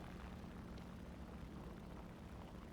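An F8F Bearcat propeller fighter plane in War Thunder gives off a faint, steady engine drone, constant and unbroken throughout with no voices.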